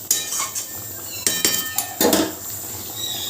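A metal pot of mutton for biryani gets covered with its lid: a few sharp metallic clinks and clanks, loudest near the middle, over faint kitchen background hiss.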